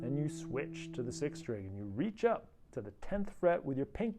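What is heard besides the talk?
No everyday noise stands out behind the speech.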